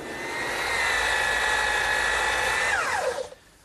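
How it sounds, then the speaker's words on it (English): A bandsaw cuts through wood for a garden armchair, a steady high whine under load that holds for a few seconds, then drops in pitch and fades as the blade spins down. "now it's off to the bandsaw"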